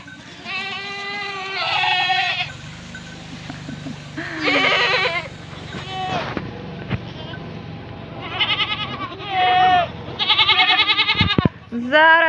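Mother goats bleat loudly and repeatedly at close range after their kids, long wavering cries in several bursts with short gaps, while someone speaks briefly between the calls.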